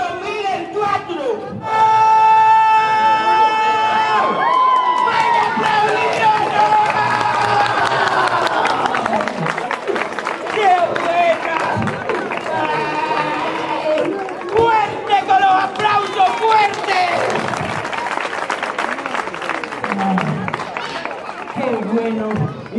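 Audience at a magic show applauding loudly with cheers and shouts, crowd noise swelling with lively clapping and chatter, a voice talking over it at times, and tonal music-like notes near the start.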